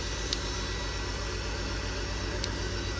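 A BMW E46 engine idles steadily after a fuel injector installation, a continuous low rumble with a couple of faint clicks.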